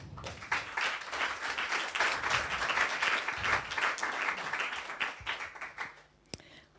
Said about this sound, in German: Noch einen kleinen Applaus bitte.